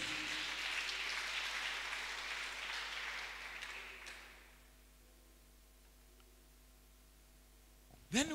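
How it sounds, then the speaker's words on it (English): A church congregation claps hands together for several seconds, a dense patter that fades away by the midpoint, leaving a low hum and quiet room tone before a brief sharp knock near the end. "Clap your hands to Jesus."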